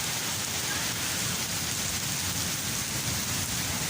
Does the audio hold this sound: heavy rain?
yes